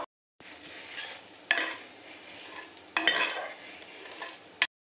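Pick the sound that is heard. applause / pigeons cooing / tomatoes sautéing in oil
tomatoes sautéing in oil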